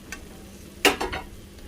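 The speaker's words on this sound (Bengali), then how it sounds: "এখন আলুকে ভালো করে মশলার সাথে কষিয়ে নেব" Potato pieces in a pan of spiced yogurt masala being stirred and sizzling, a quiet bed of frying with a couple of sharp scraping strokes of the spoon near the middle, close by and alone.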